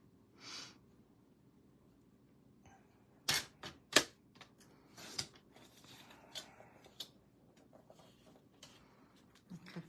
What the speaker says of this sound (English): I'm going to cut this one in a triangle.